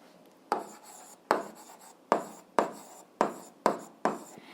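Writing by hand while setting out an algebra problem, heard as a series of six distinct, evenly spaced scratchy strokes, close and clear in a quiet room.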